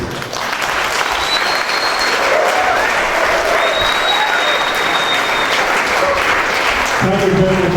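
Loud, continuous audience applause in a university lecture hall, greeting the Vice Chancellor, with many hands clapping evenly throughout and a few brief voices rising faintly above it near the end.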